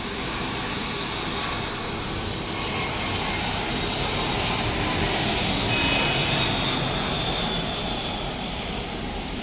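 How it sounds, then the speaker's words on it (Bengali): A Thai Airways Airbus A320 descending overhead to land near Dhaka, a loud sustained jet engine roar that swells slightly mid-way and stays steady, with no voices. "একটি এয়ারবাস মডেলের বিমান এ থ্রি টু জিরো এই বিমানটি থাই এয়ারওয়েজের"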